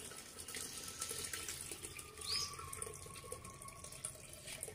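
Water with soaked sorghum grits poured through a kitchen sieve into a pot, a soft continuous trickle and splash close by with no talking.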